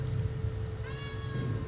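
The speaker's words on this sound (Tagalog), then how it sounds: "Yan ang pusa oh, gusto kumain ng isda ko" A cat hanging around grilled tuna gives a single drawn-out meow at close range over a steady low hum, with no talking.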